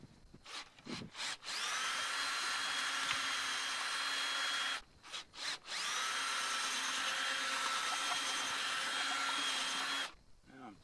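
A power drill fitted with a smaller bit bores into a PVC fitting in two long, steady whining runs of several seconds each, with brief quiet gaps and short bursts around them.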